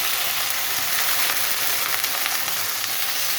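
Water splashed into a hot pan for dal, producing a loud, dense, unbroken sizzling hiss that holds steady from start to finish at close range.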